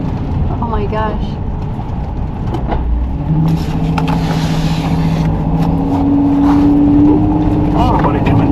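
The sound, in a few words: vehicle driving through deep mud on a dirt road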